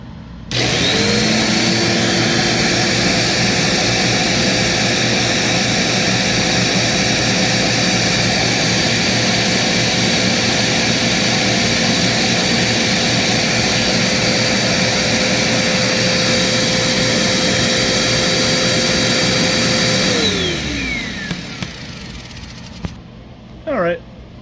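A Riccar Vibrance commercial vacuum motor runs loud and steady with a constant high whine for about twenty seconds, then winds down as it is switched off.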